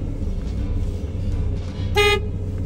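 A car horn gives one short toot partway through, heard from inside the vehicle over a steady engine rumble and road noise, with no talking.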